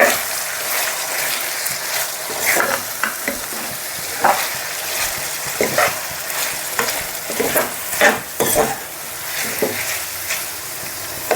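Freshly pounded garlic-chili paste is stirred into brinjal frying in oil, Andhra style. Repeated scraping strokes of a spatula sound over a constant sizzle, close and busy, with no talking.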